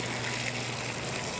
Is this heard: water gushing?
yes